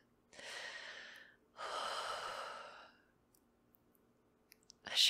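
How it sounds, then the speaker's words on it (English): Close, soft breathing: two long audible breaths, the second deeper like a sigh, followed by quiet and a few small clicks, recorded intimately in a gentle comforting setting. "Breathing."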